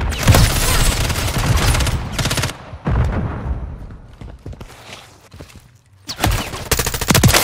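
A sentry gun in Modern Warfare 3 hardcore multiplayer firing rapid automatic bursts, loud and close, with brief pauses between volleys and other gunfire mixed in.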